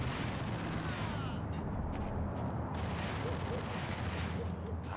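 Gunfire in the video game Max Payne: a dense, continuous clatter of shots and battle noise, loud and steady throughout the clip.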